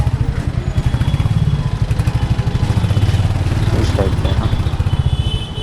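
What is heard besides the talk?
motorcycle riding through Rishikesh streets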